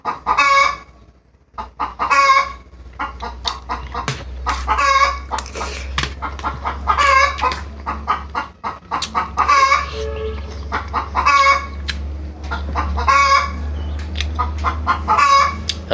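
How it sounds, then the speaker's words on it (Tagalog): Chickens cluck loudly and repeatedly nearby in a steady pattern of short bursts, with a low background hum beneath. "Ang ingay ng manok."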